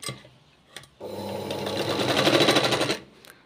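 A sewing machine stitches a cross strip onto a katori blouse, whirring steadily and close for about two seconds after a few soft clicks, then stopping.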